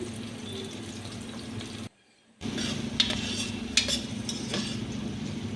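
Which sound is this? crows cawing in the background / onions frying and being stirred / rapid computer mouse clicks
onions frying and being stirred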